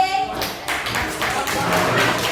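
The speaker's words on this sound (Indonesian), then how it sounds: "Beri tepuk tangan untuk grup P." Classroom students clapping for a group about to present, a burst of scattered hand claps that starts loud and continues unevenly, close by in a small room.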